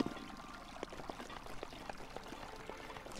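Water pouring and trickling in a video game, a soft continuous liquid wash scattered with small drip-like plinks, fairly quiet and steady throughout with no talking.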